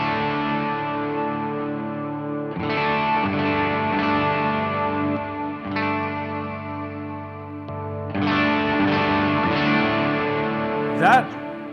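Electric guitar played through the Clear Sky Ursa Minor overdrive on a Chaos Audio Stratus multi-effect pedal: sustained, lightly driven chords rung out in three long phrases, rich and harmonic, ending with a brief bright squeal.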